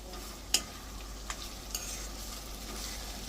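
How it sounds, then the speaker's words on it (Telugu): Chopped onions sizzle and fry softly in a pan for a spicy chicken fry, a steady low crackle with a few sharper ticks of stirring, quiet and without talk. "ఇట్లా మంచిగా వేగాలి."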